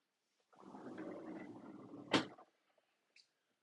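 A storage drawer slides shut in a new Entegra Coach V Model motorhome, a soft rolling rumble that ends in a sharp thump, then a faint click.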